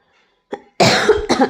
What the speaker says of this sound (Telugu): దగ్గు జలుబు చూడండి ఎట్ట పట్టుకున్నది అసలు.